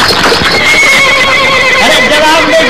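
A horse neighs loudly over the steady drumming of galloping hooves in a scene from a 1960 Bollywood romantic film. The sound is close, continuous and dense throughout.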